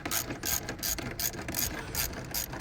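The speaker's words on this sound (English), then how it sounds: "Now we're going to take our 8 mil and untighten these hose clamps." An 8 mm ratchet loosening hose clamps at the throttle body of a 2010 Camaro SS, rapid close clicking in quick repeated bursts, loud and alone.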